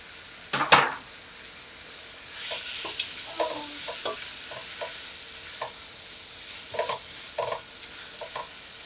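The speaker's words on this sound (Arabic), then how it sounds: "هسه انا نضيف قطع الدجاج" Chicken pieces fry in a pan for a chicken kabsa, a sharp sizzling burst as they hit the hot oil, then quieter intermittent stirring and scraping sounds spread across the rest.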